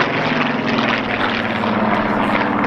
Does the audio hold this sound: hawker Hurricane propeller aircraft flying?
yes